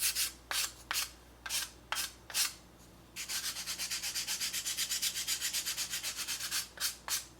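Sandpaper rounds the edge of a Junior 100 RC trainer model airplane, first in several separate swipes and then in a quick, rhythmic back-and-forth run of strokes, close and clear.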